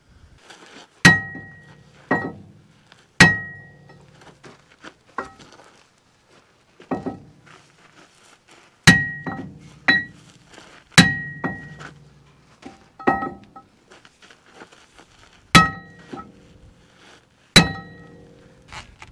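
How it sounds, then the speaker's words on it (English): A hammer strikes a rusted-on tyre again and again to shock the rust loose, about a dozen loud metallic clanks and thunks spaced irregularly a second or two apart, each ringing briefly before dying away. "We're trying to shock the rust, but just can't get it."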